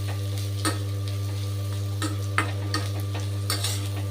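Orange peel stir-fried in a pan for a traditional thokku sizzles softly under a steady low hum, with a spatula repeatedly scraping and tapping the pan in irregular strokes. No one speaks.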